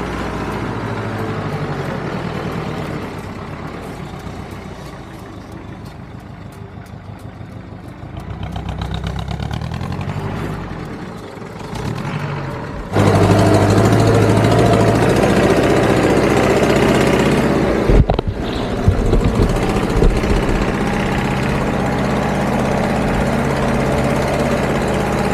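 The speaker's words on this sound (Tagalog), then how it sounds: "I-atras lang yung pick-up doon." Pick-up truck engine on a high-altitude farm road, rumbling low and steady as it reverses, then idling louder and closer after a sudden jump in level, with brief knocks and clatter over the drone.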